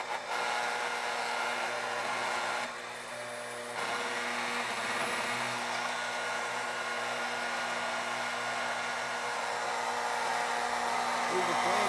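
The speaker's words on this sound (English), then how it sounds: "This one has a vibra motor too." A small vibra motor drives an Addams Family model sawmill set, adapted to 031 curves, with a steady close buzzing drone that runs without a break.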